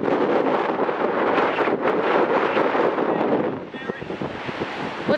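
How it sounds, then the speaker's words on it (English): Strong wind buffeting the microphone on a gray, wavy day by the sea, a loud roaring rush with surf beneath that eases slightly toward the end. "There's no sun. Very windy."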